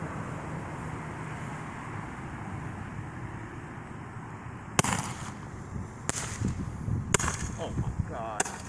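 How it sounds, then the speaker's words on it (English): A hand-held Roman candle firework fires colour pearls with bangs outdoors, four sharp loud pops spaced about a second apart over steady wind noise and a low rumble. "Roman candle test, color pearl with bang."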